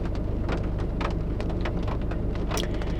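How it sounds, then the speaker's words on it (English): Rain beginning to fall in Denver, a steady dense patter of drops on surfaces with scattered sharper drips standing out, constant and close, with no talk. "now it's starting to rain. Now the rain is starting."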